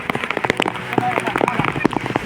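Heavy rain patters and drums on nearby surfaces during a trek at Korigad fort, a dense scatter of close, uneven drops and splashes across a short stretch.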